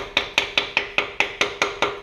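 A plastic hammer taps around a stuck piston in a 1966 Ford Galaxie 500 engine, ten evenly spaced sharp knocks with short ringing decays, close and clear with no talking.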